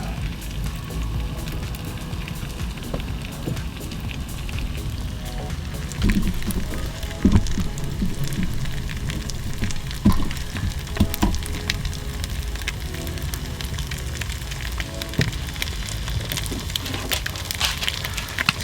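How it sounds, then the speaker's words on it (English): Eggs frying in a pan on a stove inside a Winnebago Travato Class B camper van, giving a steady crackling sizzle with scattered pops throughout, fairly close and with no talking. "the eggs are puddling up on one side of the pan"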